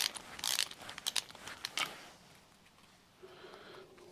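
A ratchet clicks in short quick bursts while turning out bolts in a cramped engine bay, close and fairly quiet, with the clicking fading out into near silence.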